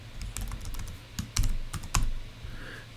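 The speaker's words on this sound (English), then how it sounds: "I just typed in OTE there." Keystrokes on a computer keyboard during lab software work, a quick uneven run of clicks with two louder clustered taps near the middle, close and dry with no talking.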